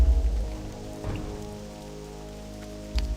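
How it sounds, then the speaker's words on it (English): Steady rain falling in World of Warcraft Classic, a soft even patter with a few heavier low thumps at the start and end, no voices over it. "Oh my god, it's so rainy."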